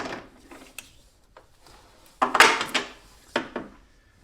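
A bolt slides through a control arm on an Audi B5 S4 with quiet metallic scrapes and taps, then a louder cluster of scraping knocks and a couple of sharp clicks, close by with no talk.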